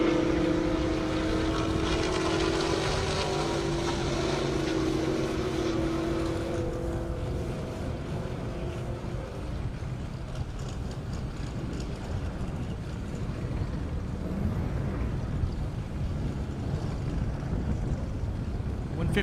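Race vehicles launch down a half-mile airstrip at an Indy 200+ mph event, a loud sustained engine roar that rises and then fades into a broad rumble, with an announcer talking over it.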